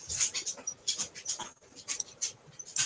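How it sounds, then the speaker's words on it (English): A pet pit bull whimpers and whines in short, high, fluttering cries close by, with a faint voice in the background. "Is that a dog I hear? Yes, it's my dog."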